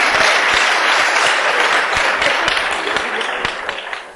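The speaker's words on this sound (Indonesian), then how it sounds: "Tepuk tangan semua" Loud, dense audience clapping at a talk, sustained then gradually thinning and fading toward the end.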